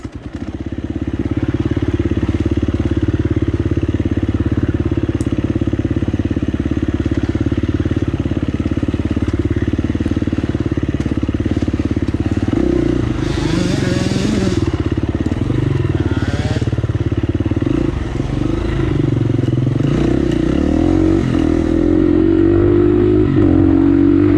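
Dirt bike motorcycle racing in a hare scramble, one engine close and loud throughout, droning steadily at high revs, then shifting and revving unevenly with clattering over rough ground, with faint speech in the noise.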